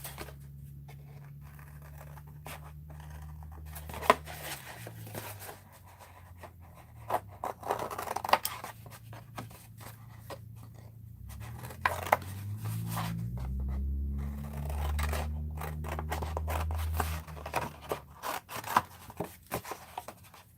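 Scissors cutting through a cardboard box at a craft table, a run of scattered snips and scrapes over about twenty seconds, close and fairly quiet with a low hum underneath and no talk.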